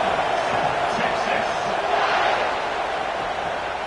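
A football stadium crowd roars in a dense, sustained wash of cheering after a special teams score, loud and close throughout, fading slightly toward the end.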